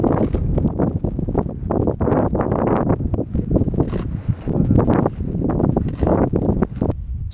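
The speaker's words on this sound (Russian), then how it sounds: "Работать приходится в суровых условиях, в тундре и при сильном ветре." Strong, gusty wind in the tundra buffets the microphone in loud, continuous roaring bursts, with rustling through the whole stretch.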